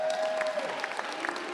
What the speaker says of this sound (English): How about a round of applause for George?